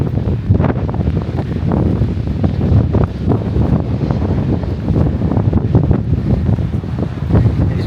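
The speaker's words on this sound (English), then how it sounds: "It's windy, very wet." Strong wind gusts buffet the microphone on a hill during a wet ultramarathon, producing a loud, continuous rumbling roar with no voices.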